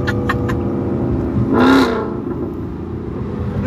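A Ford Mustang engine idles with a steady low rumble, then gives one short rev that swells and fades in the middle before settling back to idle.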